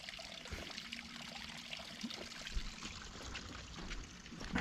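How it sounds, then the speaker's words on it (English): A tiny waterfall dribbles beside a forest trail boardwalk at Gazzam Lake Nature Preserve on Bainbridge Island, Washington, giving a soft, steady trickle with faint splashes and no voices. "Little tiny, super tiny little dribbly waterfall."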